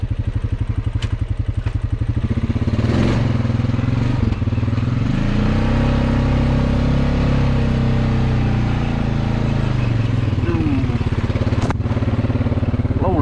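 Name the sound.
trail bike engine riding a muddy trail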